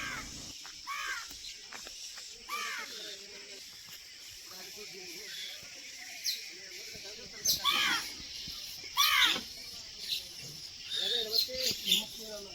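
Harsh, shrill calls of an Asian koel come in short bursts, some repeated quickly, fairly close over a quiet background, along the Krishna river in Sangli.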